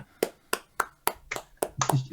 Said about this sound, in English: as soon as we're done clapping, we will stop